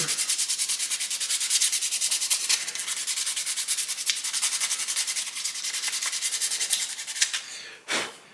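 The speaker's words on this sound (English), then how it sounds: "I'm going to do is just polish the nut again" Steady, close rubbing of 400 grit sandpaper polishing the nut of a lap steel guitar, a continuous rasp in repeated rapid strokes that stops with a brief knock near the end.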